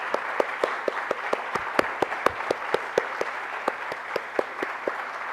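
Conference audience in Lima giving a round of applause for a team of students, a long run of steady, close, sharp claps.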